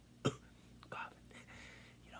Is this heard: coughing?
yes